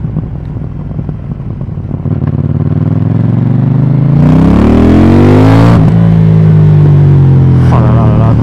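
KTM Duke 790 motorcycle riding along the seaside, engine building from a steady drone into a loud rising acceleration, then settling into a strong cruise, close and continuous with wind noise.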